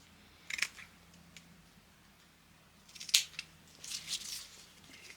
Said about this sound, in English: if you cut the ends off a little bit on an angle